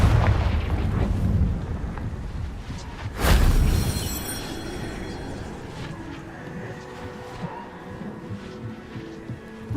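A single loud fiery blast from the Confringo spell in the Hogwarts Legacy video game erupts mid-clip, breaking through a steady low background rumble before fading into quieter ambient game noise.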